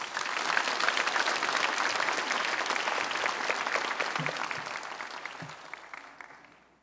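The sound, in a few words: audience applause welcoming the pastor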